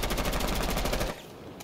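Jackal's C7E rifle firing in Rainbow Six Siege, a rapid, loud automatic burst of about a second with evenly spaced shots, then a sudden stop into quiet.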